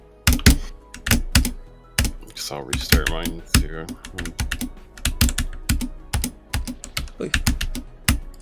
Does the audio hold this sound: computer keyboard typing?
yes